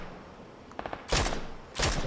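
Rifle gunfire in the battle royale game PUBG: after a faint patter of distant shots, two loud, bright bursts of rapid fire ring out about half a second apart, close and sharp.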